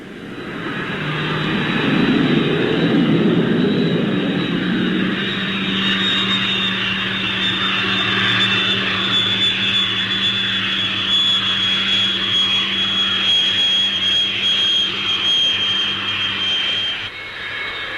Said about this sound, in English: the use of a parachute brake when landing